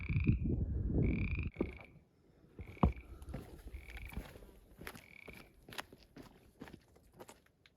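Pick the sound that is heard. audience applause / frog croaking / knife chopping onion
frog croaking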